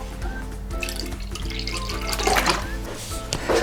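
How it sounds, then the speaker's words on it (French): Water from a tap pours steadily into a bowl of crêpe batter with vanilla for a layered crêpe cake, a continuous close liquid rush with faint kitchen clatter behind it. "On met 50 g d'eau."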